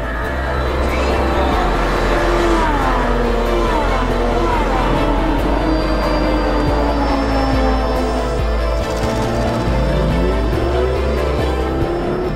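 A Lamborghini Super Trofeo race car at full pace, its engine roaring loud and close as the revs climb and drop repeatedly through upshifts and downshifts, with no talking.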